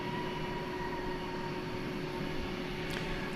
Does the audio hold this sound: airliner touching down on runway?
yes